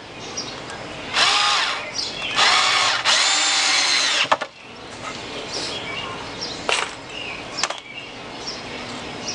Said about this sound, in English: I'm screwing these into the support.